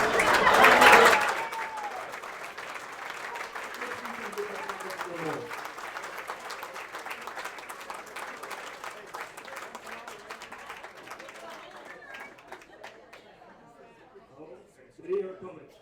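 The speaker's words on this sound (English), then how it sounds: "so we can give them a round of applause" A round of applause from the crowd at a Hall of Fame induction ceremony, steady clapping with some cheering that gradually thins out, while people talk and chatter over it and a brief loud burst comes near the end.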